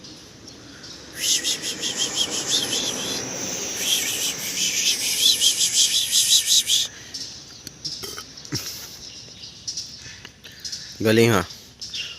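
Birds chirping outdoors on the way to a market, with squirrels nearby: a dense, steady run of high, rapid calls for several seconds, then scattered chirps, with people talking close by.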